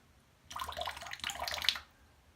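Wet squishing and splashing as water is squeezed out of a shaving brush, two short bursts over about a second and a half, close by.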